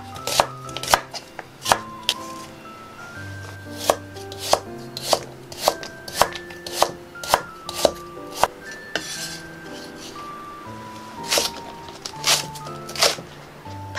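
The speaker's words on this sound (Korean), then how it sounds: "야채도 모두 잘라주겠어요. 양파 하나 모두 다 쓸 거고요." A knife chopping an onion and vegetables into large chunks on a board, with a steady run of loud, sharp thuds close up and light clinks of dishes between cuts.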